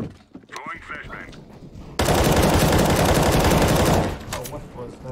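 Rapid automatic gunfire in the video game CS:GO fires in a dense, loud burst of about two seconds, preceded and followed by quieter game sounds and brief scuffling.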